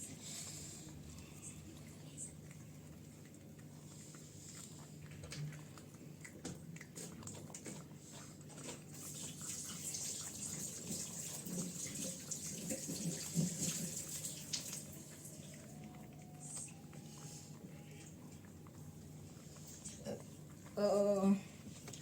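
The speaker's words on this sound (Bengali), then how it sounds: "আচ্ছা দাঁড়াও হাত ধুয়ে আসি" A kitchen tap runs for hand washing, a steady wash of water with a dog audible nearby and some soft background noise.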